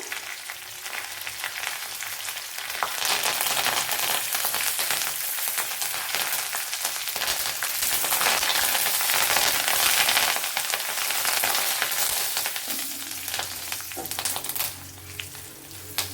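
Crushed spices fry in a pan for a Kerala bean stir-fry, giving a dense, loud crackling sizzle that holds steady, then eases slightly near the end as a low hum comes in.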